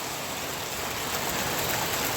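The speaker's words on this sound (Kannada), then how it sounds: "ಇಲ್ಲಿ ನೋಡಿ, ನಮ್ಮ ಶೀಟಿಂದ ಬರುವ ನೀರು" Heavy rain pours down with a dense, roaring hiss as water sheets off a sheet roof, loud and constant for the whole short stretch.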